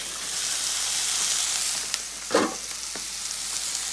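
Tomatoes and curry paste fry in a pan, giving a steady close sizzle and hiss, with a brief louder stir or clatter partway through.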